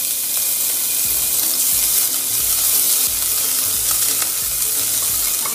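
Ginger garlic paste fries in hot oil in a pressure cooker, giving a steady, close, broadband sizzle that holds for the whole stretch with no voices.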